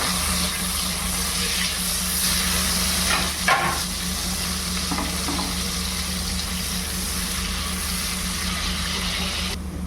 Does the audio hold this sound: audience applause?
no